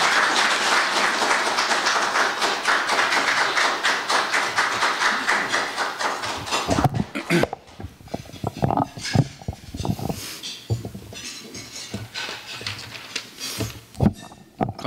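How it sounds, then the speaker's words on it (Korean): A lecture-hall audience at a Korean forum applauds to welcome the speaker: dense, loud clapping for about seven seconds, then thinning into scattered claps and taps. "연사 나오실 때 큰 박수로 환영해 주시면 고맙겠습니다"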